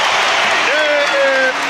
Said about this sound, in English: he just got a great round of applause from the crowd here at Delta Center, and standing ovation